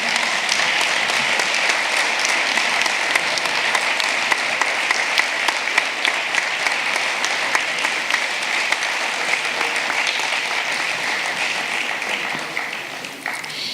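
An audience at a sports awards gala in Roquetes gives a strong, continuous round of applause, loud and sustained before easing off at the very end.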